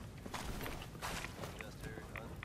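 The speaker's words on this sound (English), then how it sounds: "I hear footsteps." Footsteps in the video game Fallout 3 patter in a few quick clusters of light steps, fairly quiet, with faint voices murmuring in the background.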